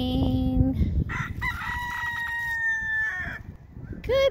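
Peacock calling on a Saturday morning walk, loud, wailing honks rising and holding over steady outdoor background noise, close by and alone, with a few separate call bursts in a short span.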